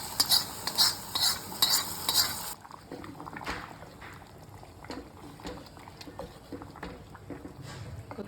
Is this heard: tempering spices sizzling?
yes